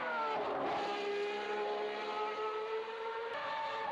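A Minardi Formula 1 car screams through a corner, its engine note dipping briefly and then rising as it accelerates away, loud and close with no voices.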